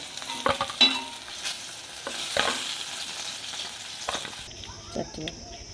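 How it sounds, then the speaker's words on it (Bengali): Fish sizzles and spits in hot oil in a wok, with a few scraping stirs and clinks of a utensil against the pan; no talking. "উল্টে পাল্টে মাছটা লাল করে ভেজে নিয়েছি"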